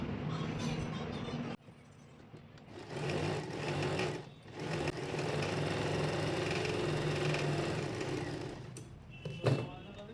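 A sewing machine runs in steady bursts, stitching blouse fabric with a fast mechanical whir, pausing briefly between runs, close and fairly quiet, with no voices.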